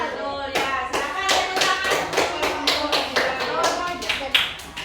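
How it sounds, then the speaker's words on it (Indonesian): A classroom group claps in a quick, steady round of applause lasting several seconds, close and fairly loud, with voices mixed in. "tepuk tangan."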